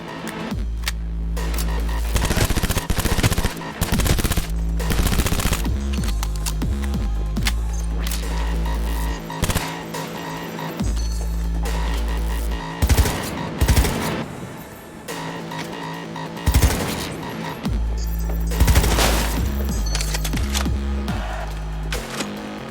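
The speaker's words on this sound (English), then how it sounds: "Heard shots." Gunfire in the video game Cyberpunk, loud bursts of shots cutting through a heavy droning game soundtrack with a deep throbbing bass, recurring across the stretch with no one talking.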